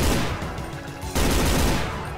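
An assault gun fires in Brutal Doom, with dense, loud rapid bursts of game gunfire and a brief change in the shots midway, close and without talk.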